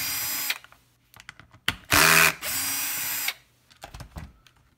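An electric screwdriver or small drill unscrews screws from an ER3000 detector during servicing, in several loud bursts of whirring broken by short pauses and faint handling clicks.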